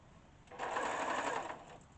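Sewing machine stitching the brim of a reversible bucket hat, a short close burst of fast motor whirring that starts abruptly and fades out after about a second.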